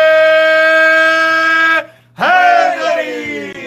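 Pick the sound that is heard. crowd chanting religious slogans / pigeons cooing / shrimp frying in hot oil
crowd chanting religious slogans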